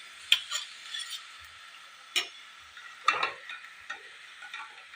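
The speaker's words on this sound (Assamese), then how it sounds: "এইদৰে মই গোটেই পিঠাখিনি ভাজি ৰেডি কৰি লওঁ।" Assamese pitha frying in a pan, with soft sizzling under occasional sharp scrapes and clinks of a utensil against the pan, fairly close and quiet.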